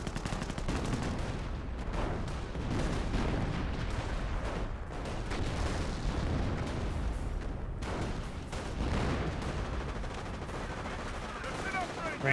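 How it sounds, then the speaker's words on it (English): Sector artillery airburst rounds in Company of Heroes, a continuous rumbling barrage of overlapping gunfire and bursts with crackling peaks, loud and sustained throughout with no clear gaps. "Oh no, that's the sector artillery airburst rounds."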